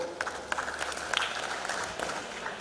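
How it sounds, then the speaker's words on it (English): An audience at a youth and innovation expo applauds in a brief, moderate burst of scattered clapping that stays fairly steady throughout, with a little crowd murmur mixed in. "Round of applause."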